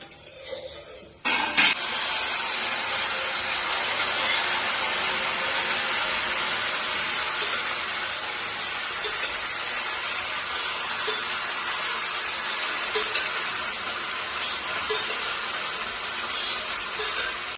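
Boiled elephant foot yam pieces drop into hot tempering oil with a sudden burst, then a steady loud sizzling hiss continues throughout.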